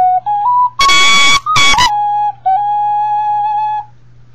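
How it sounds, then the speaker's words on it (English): A Tai Chi ocarina played indoors, clear pure whistle-like tones held and sliding between notes, with two louder, breathier bursts in the middle, ending in a long sustained note over a faint low hum. "This is the Tai Chi ocarina."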